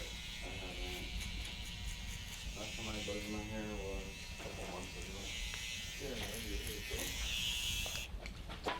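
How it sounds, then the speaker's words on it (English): An electric shaver works over a skin fade on a combover haircut, giving a steady, close-up, high-pitched buzz that runs without a break under someone talking. "So now we're gonna hit it with our shaver"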